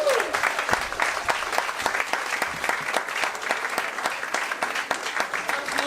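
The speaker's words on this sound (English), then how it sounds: "Applause for Prem." An audience at a year-end special claps loudly for a speaker named Prem, a full, continuous round of dense applause that holds steady throughout.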